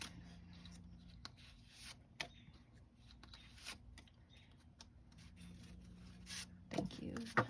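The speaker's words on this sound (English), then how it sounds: "Here are some tarot cards we're going to throw out there." Tarot cards being handled and laid out during a card reading, with quiet shuffling, sliding and soft taps of cards close by, sparse and irregular, ending in a louder flurry of handling.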